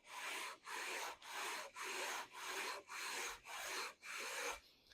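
Seven long, even rasping strokes of a sanding beam on a wooden guitar fingerboard, back and forth in a steady rhythm, close and fairly loud, with brief pauses between each pass.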